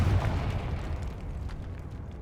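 The Confringo blasting spell in Hogwarts Legacy goes off as a deep booming explosion that rumbles loudly at first and then decays over a couple of seconds, with no voices over it.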